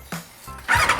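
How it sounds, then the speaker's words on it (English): A motorcycle engine starts up: a short whirring crank, then a loud, raspy catch into a running idle, close and alone. "start the engine"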